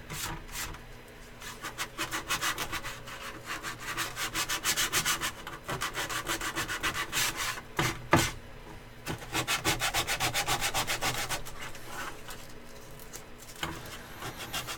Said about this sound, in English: sometimes you just gotta come in with some sandpaper and get everything that isn't perfectly flat.